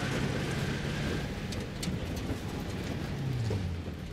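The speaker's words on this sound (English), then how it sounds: "It's hail, I think." Hail patters down steadily in a Battlefield V North Africa level, a dense, even hiss of falling ice with faint low rumbles underneath and no voices.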